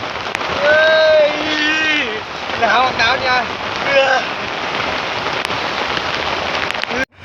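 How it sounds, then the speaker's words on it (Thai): Rain falls steadily in a constant wash of patter while someone talks over it, his voice rising and falling near the microphone. "พี่น้องฝนตกครับฝนตกหนาวโอ้ หนาวเลยพี่น้องเนี่ยฝนตกครับ"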